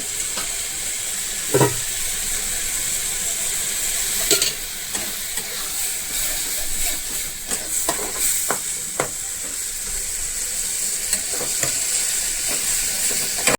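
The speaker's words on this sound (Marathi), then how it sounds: "मी तेलामध्ये फ्राय करून घेते" Raw tomatoes sizzle in hot oil for a roasted eggplant bharta, a steady moderate hiss broken by sharp clicks and scrapes from stirring, with no talking.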